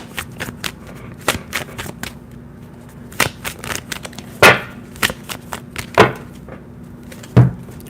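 A Karma Sutra tarot card deck being shuffled by hand: repeated crisp riffling bursts and soft card slaps at an irregular rhythm, close and clear, with a steady low hum beneath and no talking.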